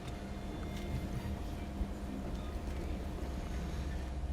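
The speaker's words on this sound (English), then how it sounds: "It was actually motor sailing because the wind wasn't there." A sailboat motor sailing off Bophut Beach, Koh Samui, gives a steady, even drone of engine and water noise with light wind, unchanging throughout.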